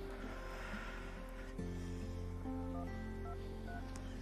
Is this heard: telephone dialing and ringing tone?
yes